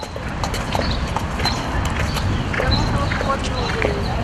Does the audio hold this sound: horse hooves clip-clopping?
yes